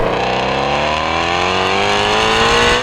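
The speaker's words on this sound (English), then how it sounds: "you've heard the exhaust" An 850-horsepower Hennessey GT350R roars loudly under hard acceleration, its exhaust note climbing steadily in pitch through a sustained rev at close range.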